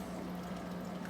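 An aquarium tank hums and gurgles softly with oxygen bubbling and two filters running, a faint, continuous watery burble.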